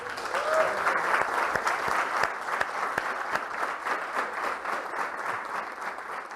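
A church congregation claps together after a pastor's blessing at a worship service on baptism, a dense, steady wash of applause that fills the room for several seconds with no voice over it.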